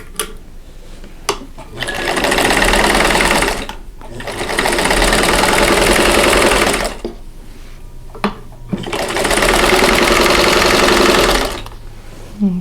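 Sewing machine stitching a quilt sashing strip to a cornerstone for a sampler quilt top, running in three long loud bursts separated by short pauses, with no talk.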